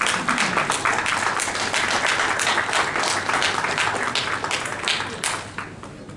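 Steady audience applause fills a seminar hall at an award ceremony for auto parts manufacturing support, dense clapping holding loud throughout and tapering slightly at the end.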